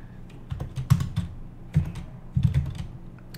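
Keystrokes on a Mac keyboard while a cd command is entered in the terminal: several bursts of close, crisp clicks with short pauses between them, no voices.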